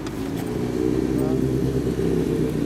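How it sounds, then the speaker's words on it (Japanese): Kawasaki Z1000R2 motorcycle from 1982, fitted with a Kerker exhaust, idling and revving as a steady, loud, deep engine drone with a brief lift in pitch, close by with talk over it. "エンジンを聞かせてもらえるかな"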